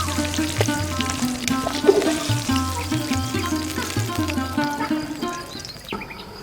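Rohu fish pieces frying in hot oil in a pan, a steady close sizzle and crackle that fills the whole stretch, with a low hum and faint tonal background noise underneath.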